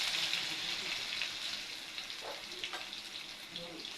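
Crushed garlic and white cumin sizzle in hot oil in a pan, a loud, steady frying hiss close up, with no talking.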